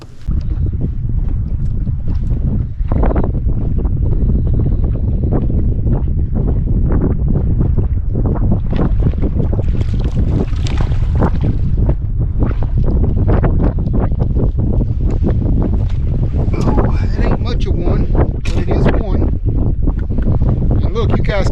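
Strong wind buffets the microphone in a constant loud roar on open water at High Rock Lake, with someone talking loudly underneath throughout.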